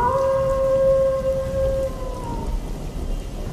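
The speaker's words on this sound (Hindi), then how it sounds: "और जोर जोर से बारिश पड़ती रही।" Steady heavy rain hisses throughout, with a faint tonal whine fading out partway through.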